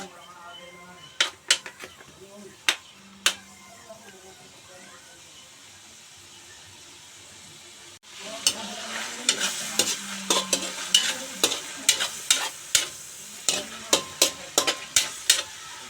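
Garlic and onion sautéing in a pan, with sizzling under steady stirring and a run of sharp spoon or utensil clacks against the pan that grows louder and busier in the second half.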